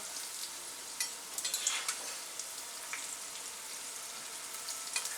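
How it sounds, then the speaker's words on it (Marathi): Cabbage vadi sizzles steadily in hot oil in a pan over a medium flame, a soft constant crackle with occasional sharper pops and spatters, with no voices. "मीडियम गॅस आहे आणि गोल्डन कलरवर आपल्याला ह्याला फ्राय करायचे आहेत"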